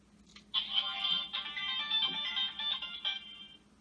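A Kyuranger Ryutsueider toy blaster plays its electronic starting sound effect, a bright chirping synthetic tone lasting about three seconds, faint and close with a slight warble.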